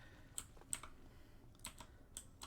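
Faint computer keyboard keys tap a few times in irregular bursts while a game of Prince of Persia: The Sands of Time is played, with no talk.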